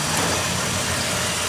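A 2015 Dodge Durango Limited with a 3.6 L V6 idles under an open hood, a loud, steady engine hum and whir heard close up with no voices.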